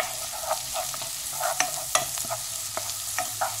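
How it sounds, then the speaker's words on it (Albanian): Spring onion greens, carrots and potatoes are sautéed in butter in a pan, with a soft steady sizzle under repeated close spoon stirs and scrapes. "Tani shkojmë dhe i kaordisim me gjalp."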